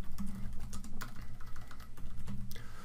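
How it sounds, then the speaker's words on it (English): Quick, close clicking of keys as someone types on a computer keyboard, an irregular patter of keystrokes with no talking. "So we type directions."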